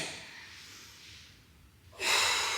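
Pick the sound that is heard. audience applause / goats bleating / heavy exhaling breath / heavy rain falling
heavy exhaling breath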